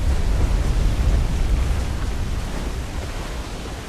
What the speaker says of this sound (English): Water spout!